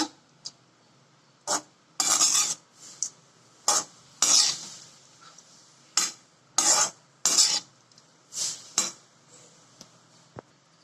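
A spoon stirs and scrapes raw mango rice in a pan in a home kitchen. The strokes come as short, bright metallic scrapes in an irregular rhythm, each separated by quiet pauses.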